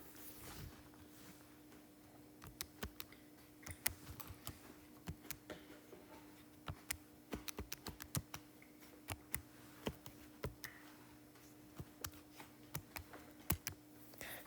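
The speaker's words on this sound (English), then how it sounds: "I'm typing this into my calculator." Irregular light clicks of calculator keys being pressed, scattered in quick bursts with short pauses, close by against a quiet steady hum.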